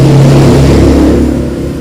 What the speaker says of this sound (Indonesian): Maaf banyak suara motor ya,